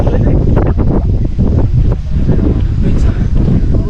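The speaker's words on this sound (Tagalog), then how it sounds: "mahangin." Strong gusty wind on a mountain viewing deck at Mt Kapigpiglatan buffets the microphone with heavy low rumbling, continuous and loud, while faint voices come through underneath.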